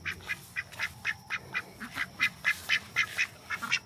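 Ducks in a homestead duck garden quack in a steady run of loud, rhythmic calls close by, about a dozen quacks in quick succession with no talking.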